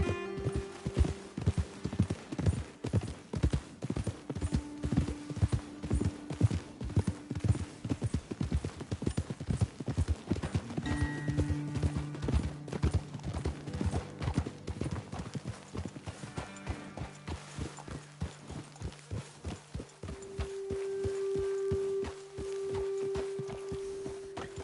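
Horses clip-clop steadily on hard ground in a Red Dead Redemption 2 game scene, several animals walking close by in a continuous, even rhythm throughout, with a brief whinny-like tone near the end.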